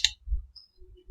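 A single sharp computer mouse click lands at the start, close and crisp, followed by a faint low thud and quiet room hum, with no talking.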